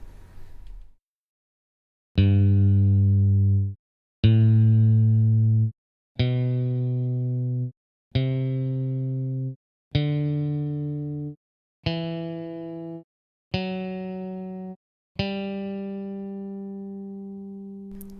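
Eight single guitar notes played one after another, each ringing about a second before a brief gap, climbing steadily in pitch.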